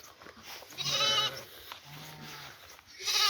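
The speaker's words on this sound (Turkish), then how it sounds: "Kuzusu meliyor." Two drawn-out lamb bleats, wavering and nasal, the second slightly shorter, with another bleat starting at the end; close by over quiet farmyard background on a foggy winter day.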